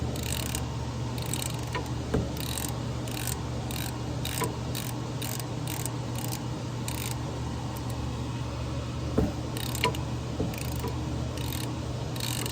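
Repeated clicking of a ratchet working on a stuck oil drain bolt during an oil change on a 5.3L GMC Yukon, a steady ticking mechanism over a constant low hum with a few louder knocks.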